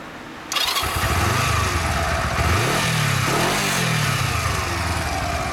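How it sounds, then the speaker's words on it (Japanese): A stock Honda CB125T motorcycle engine cranks and fires after a short quiet moment, then settles into a loud, close, steady idle with a couple of light throttle blips rising and falling. "エンジン音聞かせてもらえる？"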